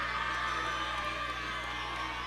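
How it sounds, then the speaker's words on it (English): A crowd in a high school gym roars during a Waunakee vs Monona Grove boys basketball game, a dense, sustained wash of cheering voices that holds steady and loud throughout. "Crowd getting loud here at Monona Grove High School."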